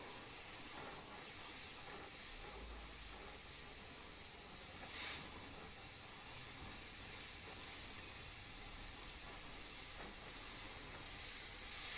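Steady airbrush hiss of paint being sprayed onto a skull template, soft and continuous with brief swells as the trigger is pulled, close and alone without talk.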